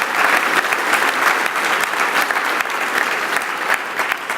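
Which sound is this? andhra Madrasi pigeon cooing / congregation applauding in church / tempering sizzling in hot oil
congregation applauding in church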